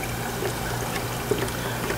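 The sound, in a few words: water poured into ice cream machine for cleaning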